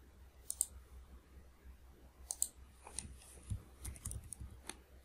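Faint, sparse clicks of typing on a computer keyboard, a few short bursts of keystrokes scattered across a quiet background, close but soft, with no talking.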